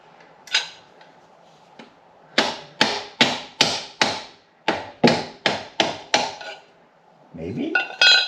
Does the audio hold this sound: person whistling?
no